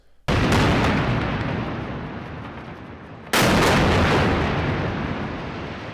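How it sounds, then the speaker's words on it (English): Israeli missile strike destroying a high-rise building in Gaza: two huge explosion blasts a few seconds apart, each a sudden loud boom followed by a long rumbling roar that slowly fades. "This is the moment an Israeli missile strike destroyed a high-rise building housing the Associated Press, Al Jazeera, and other office spaces and homes in Gaza"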